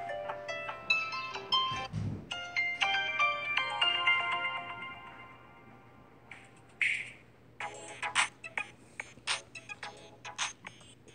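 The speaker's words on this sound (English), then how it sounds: "This ringtone's on this phone." A Samsung Galaxy S7 ringtone plays a bright melodic phrase of clear tones, then breaks into a looser run of sharp plucked and ticking notes, moderately loud and heard alone.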